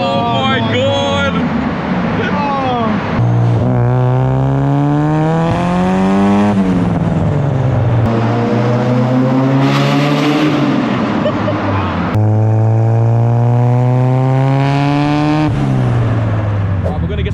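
Loud Nissan S15 exhaust revving hard inside a tunnel, rising and falling engine tones sweeping up repeatedly with strong echo, close and continuous throughout.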